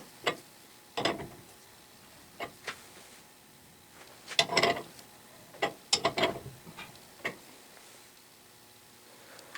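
A fine-thread puller on a Clausing lathe drawbar is cranked by hand, giving scattered clicking ratchet-like ticks and short metallic grinding bursts in irregular groups, fairly faint and close, with no speech.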